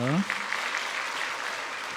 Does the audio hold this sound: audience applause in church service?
yes